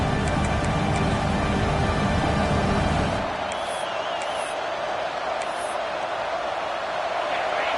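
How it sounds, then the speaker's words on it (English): Dense, roaring crowd noise fills a large stadium at an American football game, loud at first then settling into a steady murmur with faint whistles and shouts. "listen to this crowd noise. This stadium is vibrating."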